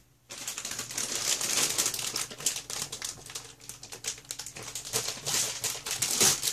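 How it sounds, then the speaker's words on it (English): Printer paper is handled and crinkled close up during an indoor Bible study, a run of dry rustling crackles that swell and fade unevenly across several seconds, with no talking over it. "That crinkling just now was some paper"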